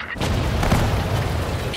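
A cannon fires in the Sudden Strike 4 WWII strategy game during a German Operation Barbarossa campaign, a single loud, close boom that sustains into a rumbling blast with no speech.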